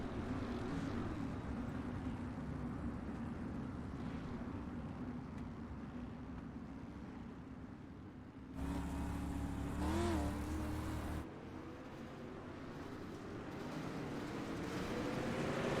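Dirt street stock race cars roaring around a dirt track, a steady loud engine drone throughout with a louder pass swelling near the middle, heard from a distance with no talking.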